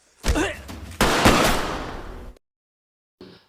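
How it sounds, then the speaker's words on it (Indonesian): Gunfire in an action film where a guard is shot, with loud booming blasts and sustained rumbling reverberation, followed by an abrupt silence and a short faint noise at the end. "Michael menembak penjaga itu"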